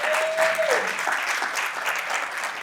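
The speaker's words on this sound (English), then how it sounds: "We can clap for that." Audience applause at an award ceremony, a steady wash of many hands clapping at moderate distance, continuous throughout with a brief whistle-like tone near the start.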